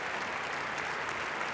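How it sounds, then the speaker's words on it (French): German parliamentarians in the Bundestag applauding, a dense, steady wash of many hands clapping that fills the whole moment without a break. "Une belle et longue minute d'applaudissements de l'ensemble des parlementaires allemands"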